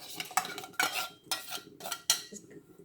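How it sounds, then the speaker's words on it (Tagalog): Chicken adobo is stirred in a pan with a metal utensil, giving several sharp clinks and scrapes at an irregular, roughly half-second rhythm, close and fairly quiet. "And I have to mix this and add the mushroom."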